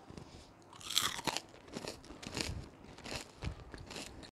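Close, loud crunching as a crunchy chocolate bar is bitten and chewed, a sharp bite followed by a steady series of crackly chews with no talking.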